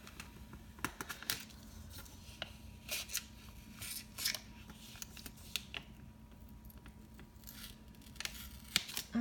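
Scissors snip through planner paper with a few small rips, giving a run of quiet, sharp cuts and crinkles against a hushed indoor background, with no talking.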